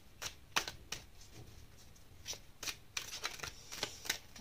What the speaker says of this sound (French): Alors, on va tirer d'autres cartes.